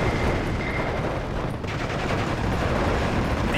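Dense, continuous gunfire in the video game Steel Division 2 roars without pause, a loud crackling barrage of rapid shots layered into a thick wall of noise.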